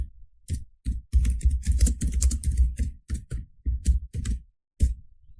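Fast typing on a computer keyboard while entering a product description, with bursts of rapid close-up key clicks broken by short pauses.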